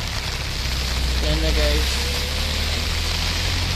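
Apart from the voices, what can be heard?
rain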